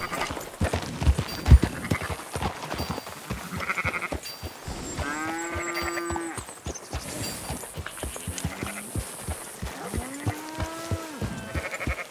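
Sheep bleating in Red Dead Redemption 2: a herd gives several wavering bleats at moderate distance, mixed with soft hoof clops and quiet ambient game noise.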